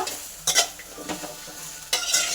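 Chopped okra pieces frying in a pan, with a soft background sizzle broken by a few sharp scrapes and clinks of a spoon stirring, close and without talk.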